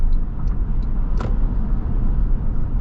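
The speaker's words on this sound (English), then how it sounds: "I think this might have less wind noise than the Lexus on the highway." A Toyota Land Cruiser cruises at highway speed, with a steady low road rumble and a broad wash of wind noise inside the cabin, constant and fairly loud, broken only by a brief faint click.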